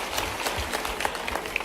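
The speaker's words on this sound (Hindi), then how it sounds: "जोरदार ताली बजाओ इनके लिए" Audience at a youth employment dialogue event clapping, a brief dense burst of applause heard from within the hall, steady and moderately loud.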